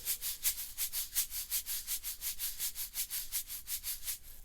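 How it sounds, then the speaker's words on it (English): Shaker played in a steady rhythmic pattern of bright, crisp rattling strokes with small accents on some beats, close and clear with no voices. "when I'm playing a shaker like this"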